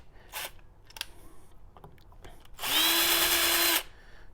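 A power screwdriver whirs loudly and steadily for about a second, backing out screws that hold a wheel on an arcade cabinet, after a few scattered clicks and handling knocks; close up, no talking.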